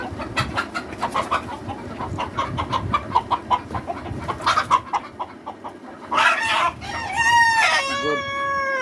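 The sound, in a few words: Fayoumi rooster crowing and clucking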